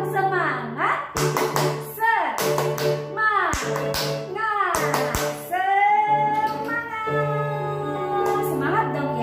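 Children and teachers perform the tepuk semangat clapping chant, sharp rhythmic hand claps in bursts alternating with sung chanting voices, close and lively.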